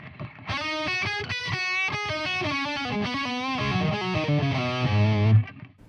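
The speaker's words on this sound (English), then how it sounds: "you can hear the delay and reverb." An electric guitar runs through delay and reverb on a Sonicake QME-100 Matribox II multi-effects unit. It plays a continuous, richly sustained line as echoed notes smear together, then decays into a lingering tail at the end.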